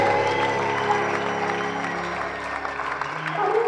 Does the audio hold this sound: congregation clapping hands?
yes